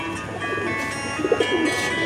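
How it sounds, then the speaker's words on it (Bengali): A Chinese-breed imported pigeon coos close by, a short soft cooing phrase rising near the end over a steady background hum. "এটা চীনার একটা কবুতর"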